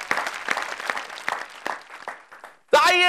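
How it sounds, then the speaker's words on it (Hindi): A studio audience on a comedy show applauds to welcome Ramesh Muskan, with scattered, rhythmic clapping that thins out before a sudden loud musical tone cuts in. "जरा जोरदार तालियों से हम स्वागत करें रमेश मुस्कान का"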